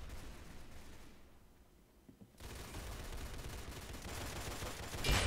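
Sustained gunfire from a shooting video game, continuous and fairly loud after a brief quieter dip, with dense overlapping shots and a sharp burst near the end.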